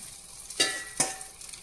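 A fresh batch of food drops into a hot pan, giving two quick, bright sizzling bursts over a low background hiss, close and unaccompanied by speech.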